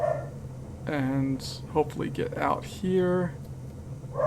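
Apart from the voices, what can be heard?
dog barking in the background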